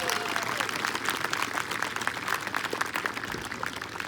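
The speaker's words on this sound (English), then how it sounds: "I knew that would get applause." An audience applauds at an eighth grade middle school graduation held outdoors on a late spring morning, producing a dense, steady wash of clapping at moderate distance with a faint voice underneath.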